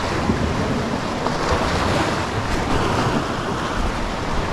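Sea waves wash steadily onto the shore as the tide comes in, a dense continuous rush mixed with heavy wind buffeting against the microphone.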